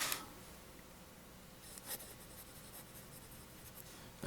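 A Jinhao 995 fountain pen with a steel nib scratching softly across paper in a few short strokes, close and faint against a quiet room.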